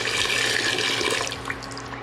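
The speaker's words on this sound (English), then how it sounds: "And then you waste no time pouring in your stock." Stock pours steadily into a pot, a brief continuous splashing gush that eases slightly toward the end.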